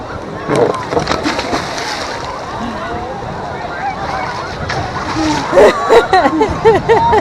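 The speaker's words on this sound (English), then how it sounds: "thought I was going to get much bigger splash than that" A person jumps into cold water at a beach and marina, making a splash followed by sloshing and rippling water, with people talking and calling out around it.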